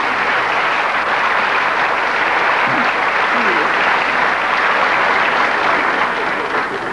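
Studio audience at a 1985 Children in Need television broadcast applauding, a loud, steady, dense wash of clapping that holds throughout with a faint voice beneath.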